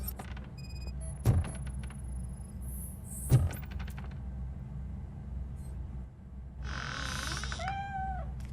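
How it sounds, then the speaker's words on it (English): A cat in the video game Robocop: Rogue City gives a couple of short meows over a steady low hum, followed later by a longer wavering cry. "Mr. Cat. But where are you hiding?"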